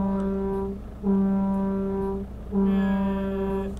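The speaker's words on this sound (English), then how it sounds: "I'm just honking my horn." Truck horn in Euro Truck Simulator sounding in long, loud sustained blasts with brief breaks between them, heard alone with no talk.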